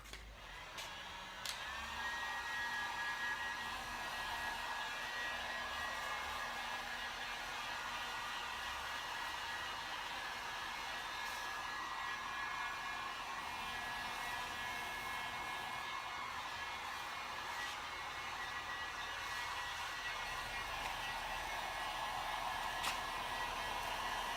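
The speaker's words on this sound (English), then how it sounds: "Let's hook up the heat gun and we'll get to it." A heat gun blows steadily onto clear plastic trash bags, a constant airy whir with a faint whine that holds at an even level for the whole stretch, with a few small clicks and rustles.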